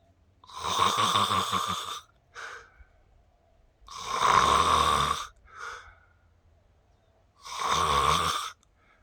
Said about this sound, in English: there's someone snoring